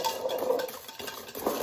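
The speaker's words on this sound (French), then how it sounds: "on mélange jusqu'à ce que ce soit mousseux" Sablé cookie dough with butter is stirred in a bowl, a close, continuous scraping and swishing of a utensil against the sides, fairly loud and steady for a short stretch.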